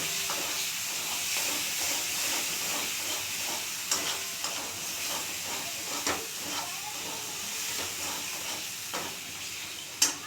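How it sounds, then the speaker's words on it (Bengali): Chicken do pyaza masala with a spoonful of sugar sautéing in a pan, giving a steady, close sizzling hiss with scattered stirring scrapes and taps throughout. "কালারের জন্য এক চামচ চিনি দেবো এটা দু তিন মিনিট কষব"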